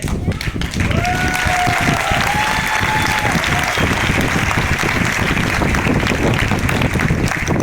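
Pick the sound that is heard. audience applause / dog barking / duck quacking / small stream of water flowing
audience applause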